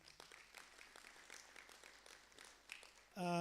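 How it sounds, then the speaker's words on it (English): Faint, distant applause from a conference audience at a regional multi-stakeholder dialogue honoring speaker Cecilia, a soft patter of clapping, ending in an abrupt louder tonal sound. "Another round of applause."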